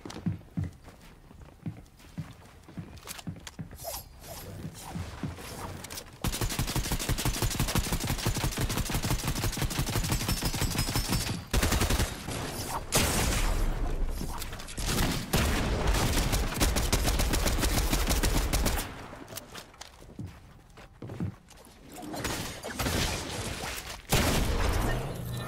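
Gunfire in the video game Fortnite, with dense bursts of rapid shots and fusillades layered over busy game sounds and footsteps. The firing is loud and nearly continuous, with a few short lulls.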